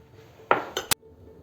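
Three quick metal spoon clinks against a mixing bowl, close and fairly soft, as heaped spoons of sugar go into rum cake batter for a Christmas cake, with quiet room tone between them.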